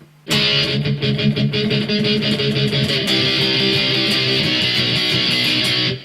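An electric guitar strums sustained, open chords without palm muting in a rock song, loud and ringing with a steady rhythmic attack that lasts the whole stretch and fades off abruptly at the end.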